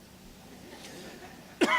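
A single short, sharp cough from a lecturer during a Spanish-language Bible class. It comes at the end after a quiet stretch and sounds close and fairly loud.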